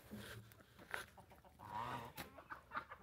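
A rooster and hens squabble nearby, a few short clucks and squawks breaking out over faint background noise, the exchange sounding quiet and somewhat distant.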